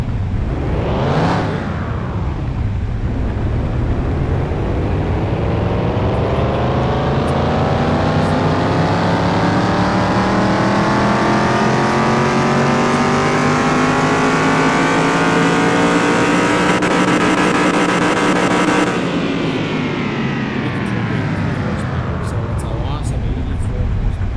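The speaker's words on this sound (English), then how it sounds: "We should have no issues now, and we can actually do a dyno run." A car engine on a dyno with an electric carburetor revs hard, pitch sweeping up and holding in a loud sustained roar before dropping away; the harmonics rise steadily across the run.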